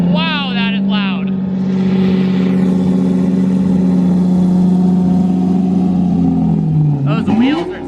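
A BMW M3 engine holds a loud, steady droning idle, then its pitch dips and rises briefly near the end. Voices talk over the start and the end.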